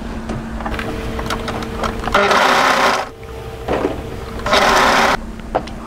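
Overlocker serging two pieces of hoodie fabric placed right sides together, with two loud bursts of rapid stitching separated by brief pauses and quieter mechanical clicks and handling.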